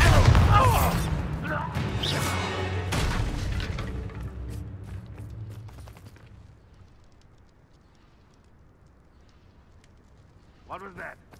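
A Bombarda blast spell goes off in the Hogwarts Legacy game, a loud booming explosion up front that rumbles and fades over several seconds into near quiet, followed by a brief faint voice.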